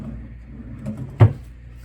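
A drawer in a hotel double queen room slides open or shut with a single short clunk, close and fairly loud against quiet room tone.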